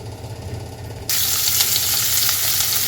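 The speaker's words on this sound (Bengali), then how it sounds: "দিয়ে তেলটা গরম হলে এবার একটু পেঁয়াজ রসুন" Onion and garlic hit hot white oil partway through and set off a sudden loud, steady sizzle that keeps frying to the end. A low hum sits beneath it.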